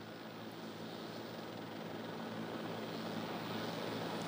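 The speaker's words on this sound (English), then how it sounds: "And here it comes in now, this JetBlue Flight 292 with that front nose gear pointed sideways." JetBlue Flight 292 airliner approaching to land at LAX with its front nose gear jammed sideways, heard as a steady, broad engine roar that holds at an even, moderately distant level throughout.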